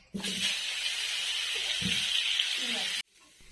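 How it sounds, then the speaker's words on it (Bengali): Cauliflower and potato pieces frying in hot oil, the same oil just used for fish, give a steady loud hiss and sizzle for about three seconds, then the sound cuts out abruptly to near silence. "একই তেলে ফুলকপির আলুগুলো ভাজার জন্য দিয়ে দিচ্ছি"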